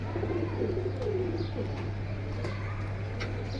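Silver-necked pigeons coo softly in low, rolling calls over a constant low hum, with a few faint chirps nearby.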